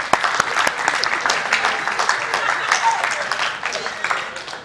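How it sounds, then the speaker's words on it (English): A church congregation claps for a young man who came in wearing pajamas. The clapping is dense and lively and keeps going throughout, with a voice or two faintly mixed in. "Give him a hand clap."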